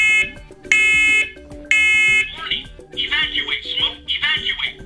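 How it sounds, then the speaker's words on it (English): A First Alert smoke alarm sounds loud, harmonic electronic chirps in two bursts, followed by a recorded synthetic voice alert speaking over a steady background tone. "When an alarm is triggered, you'll hear a loud 85 decibel chirp and voice to alert you."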